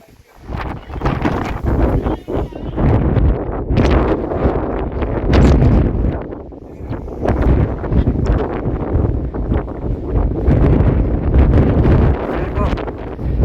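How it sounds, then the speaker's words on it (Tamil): Strong wind blasts across the mountain top at Velliangiri, roaring into the microphone in loud, rough gusts that rise and fall throughout, with a person talking underneath. "காற்று பயங்கரமாக அடிக்குது, விண்ட் பிளாஸ்ட்."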